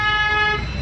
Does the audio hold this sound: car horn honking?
yes